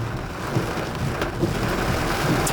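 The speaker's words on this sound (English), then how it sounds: "Now it's raining." Heavy rain pounds a car in Little Havana, Miami, with thunder rumbling; a dense, steady wash of drops drumming on the roof and glass, loud and close, with low rolling rumbles underneath.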